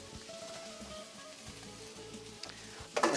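Machaca meat frying in a pan, a steady crackling sizzle with a soft rain-like patter throughout, close and moderately quiet, with a sharper burst of spattering at the end.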